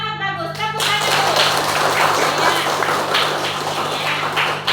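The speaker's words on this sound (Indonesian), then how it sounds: "Tepuk tangan dulu." A classroom of students claps their hands together, a dense, steady burst of applause that carries on throughout and sounds close and lively.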